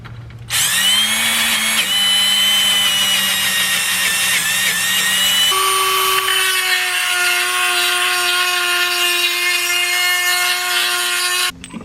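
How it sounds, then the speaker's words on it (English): A power drill bores out a bolt hole during leaf spring installation on a 1968 Firebird, a loud steady whine that shifts to a lower, grinding pitch midway as the bit bites, running continuously for about eleven seconds. "I'm gonna have to drill this hole out to get this bolt to fit"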